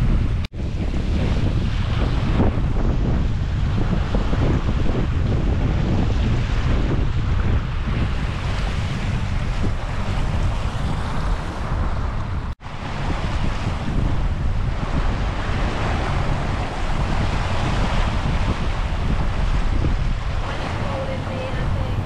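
Wind and choppy waves on Loch Ness heard from a sailing boat, a loud steady wash of water and buffeting microphone wind with no letup, alone with no talk.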